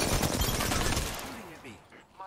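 Rapid enemy gunfire in a video game, a dense burst of shots filling the first second and a half before fading, with faint voices underneath.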